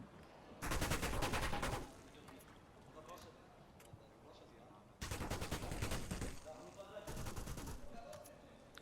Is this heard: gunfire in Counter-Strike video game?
yes